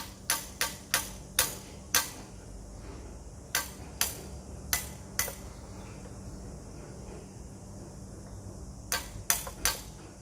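A hammer knocks a split pin while a cone type tool is fitted to an ABEX rock breaker, giving sharp metallic taps in quick bursts of several strikes with pauses between, close over a low workshop hum.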